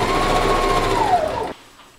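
A sewing machine runs fast and steadily as it stitches a gathered dirndl skirt waistband, a loud close whirring that stops abruptly after about a second and a half, leaving near silence.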